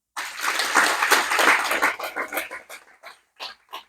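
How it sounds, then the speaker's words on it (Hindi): An audience at a talk on naturopathy and yoga claps in a dense burst that thins after about two seconds, leaving a few scattered separate claps. "एक बार ताली बजाओ।"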